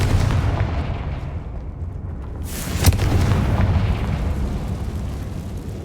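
A Confringo blasting spell from Hogwarts Legacy bursts near the three-second mark, a sharp bright crack over a dense rumbling game-combat backdrop that stays loud throughout.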